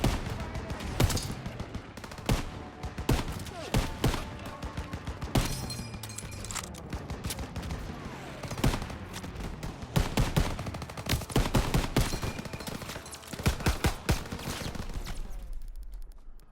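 Dense World War II gunfire from Call of Duty WW2 fills the scene, with repeated loud shots and machine-gun bursts layered over a constant battlefield roar until a brief quieter tail at the end.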